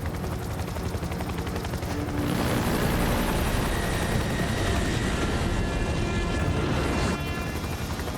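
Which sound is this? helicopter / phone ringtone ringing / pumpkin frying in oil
helicopter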